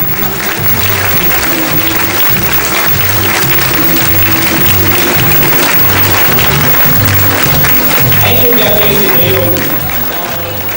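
An audience at a small-town fashion show featuring children modeling home-sewn clothes applauds loudly and continuously, with dense clapping and crowd murmur under a steady background tone.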